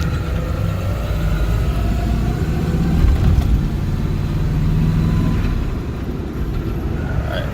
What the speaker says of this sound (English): Let's see if this car wants to go.